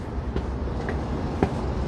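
A subway train rumbles at a New York subway station in Manhattan, a loud low continuous roar with a couple of brief clanking accents, no voices.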